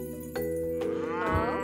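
A cow moos over a children's song with steady music beneath, giving a loud, drawn-out low call that swells and bends near the end, close and clear with no talking.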